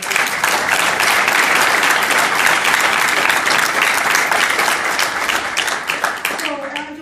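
A conference audience at a public meeting against water privatisation gives a sustained, dense round of applause for the organisers, loud and steady throughout and tapering slightly at the end.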